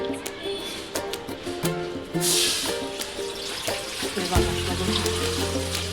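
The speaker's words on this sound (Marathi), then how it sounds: "चला आता अंदाजे मी पाणी टाकते याच्यामध्ये" Water is poured from a bottle into a pan for making sugar syrup, a steady close splashing rush under a low background hum.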